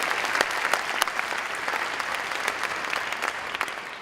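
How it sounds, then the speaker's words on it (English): Steady, dense applause from a graduation audience fills the hall, many hands clapping close together throughout with no break or talking. "you can applaud for that"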